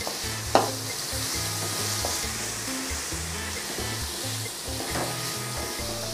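Onion and tomato frying in a pan for a spicy egg curry, a steady close sizzle with scraping stirs throughout and a sharper knock near the start, no talking.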